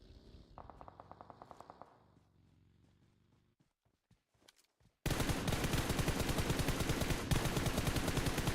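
Automatic gunfire in an esports video game match, first a light rapid burst of shots, then after a brief lull a dense, loud, sustained stream of fire.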